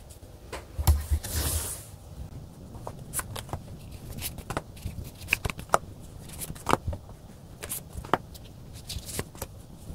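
Tarot cards being shuffled close up, with repeated crisp riffling and slapping bursts in an irregular rhythm, one louder rush near the start, no voices.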